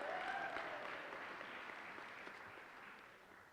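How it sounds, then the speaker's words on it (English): An audience at a college convocation applauds steadily for a few seconds, the dense clapping gradually fading, with a brief voice heard at the start. "Would you all give them a round of applause"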